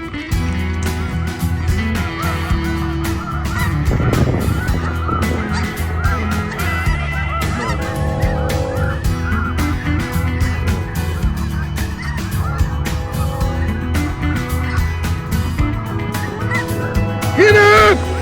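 A large flock of geese honks loudly and continuously during a goose hunt in Saskatchewan, many overlapping calls filling the scene from start to finish.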